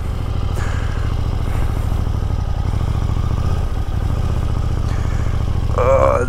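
A 2022 KTM 890 Duke GP motorcycle with the tech package rumbles steadily at low speed while being ridden in practice loops, its deep, close engine drone continuous throughout, with a brief voice near the end.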